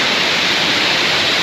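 Neer waterfall near Rishikesh, a loud, steady broadband rush of falling water heard close up, continuous with no talk.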